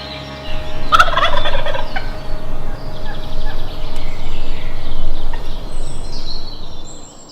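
A wild turkey in spring in Texas gobbles loudly in a rattling burst, answering a slate call, followed by further rough, pulsing gobbles and rustling that carry on for several seconds.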